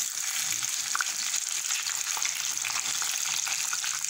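Chicken pieces go into hot olive oil in a tagine for a vegetable tagine, raising a loud, dense, continuous sizzle close by with faint crackles and no talking.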